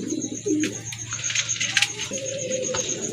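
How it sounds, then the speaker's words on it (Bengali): A pair of yellow satin pigeons, male and female, coo close by in a pigeon sale setting, their low throaty calls repeating over light fluttering and shuffling. "আরেক জোড়া কবুতর দেখতে পাচ্ছেন শার্টিন কবুতর এটা হচ্ছে আপনার ইয়েলো শার্টিন"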